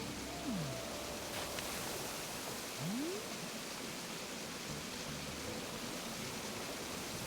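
A steady, soft wash of rushing water runs throughout, like a distant waterfall in Animal Crossing: New Horizons, with a couple of faint whooshing sweeps over it.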